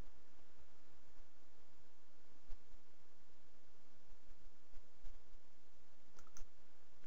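Computer mouse right-clicking, a few short sharp clicks scattered over a faint steady background hiss, close and isolated with no voices.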